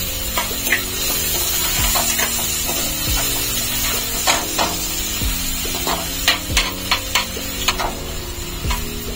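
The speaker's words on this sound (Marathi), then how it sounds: "तर आता बारीक चिरलेला कांदा आपण तेलात फ्राय करून घेऊया" Finely chopped onion fries in hot oil, producing a loud, continuous sizzle close up, broken by repeated scraping and stirring clatters from a spoon in the pan over nine seconds, without any talk.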